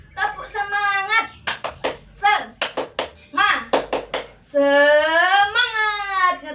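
A teacher leads a tepuk semangat clapping chant, her voice alternating with sharp rhythmic hand claps in quick bursts, close and clear, with talk between clap patterns.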